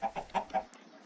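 Minecraft chickens cluck in a quick run of four short, bright bursts, then go quiet; the calls are clear and close with no talking.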